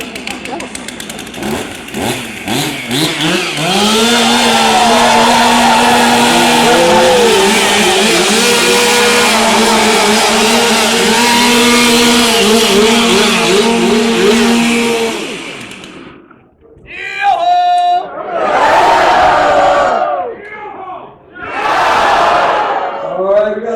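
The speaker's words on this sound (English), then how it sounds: "before we get this competition underway, we do need to warm up our saws" Several Stihl 362 chainsaws roar loudly and steadily together during warm-up at a lumberjack show in Ketchikan, Alaska, with rising and falling revs, then drop away and return in short, loud bursts near the end.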